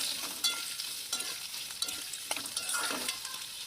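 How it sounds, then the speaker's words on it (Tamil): Cut onion pieces fry in hot oil with chana dal, giving a steady close sizzle broken by scraping stirs of a spatula against the pan, with no voices. "பெரிய வெங்காயத்தை பீஸாக கட் பண்ணி போட்டுக்கலாங்க. இதை நல்லா கிளறி விட்டுலாங்க."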